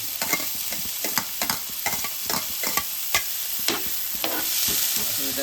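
Finely chopped onions fry in about two spoons of hot oil, a constant close sizzle with frequent rhythmic spoon scrapes against the pan.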